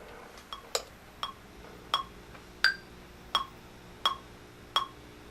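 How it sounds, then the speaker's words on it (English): A metronome ticks alone at 85 beats per minute, one sharp, faint click about every three quarters of a second. "So this is a metronome, so it's just gonna play like"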